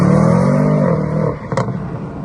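An Audi RSQ3 at a competition event revs loudly and close, its engine note sweeping upward and then falling away, followed by a brief sharp transient.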